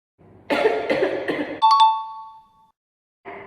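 Several quick coughs in a row from one person, close and fairly loud, followed by a short bell-like chime and a brief final sound.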